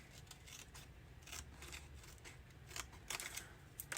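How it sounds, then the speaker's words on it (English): Faint, quiet scissor snips and crisp cuts through paper come in irregular bursts, with soft rustling between them, while making a journal. "let's use the scissors"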